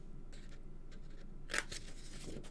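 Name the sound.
scissors trimming corners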